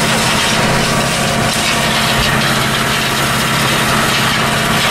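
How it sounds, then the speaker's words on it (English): Vehicle engine droning loud and close while driving around a field on a farm, a steady unbroken rumble with no talking. "I'll just drive around the field"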